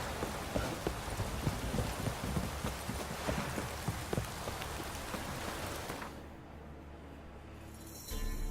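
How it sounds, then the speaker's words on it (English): Heavy rain in The Witcher 3: Wild Hunt pours steadily with dense, hissing patter and scattered drips, then briefly thins before the downpour returns at the end. "This downpour's a bastard"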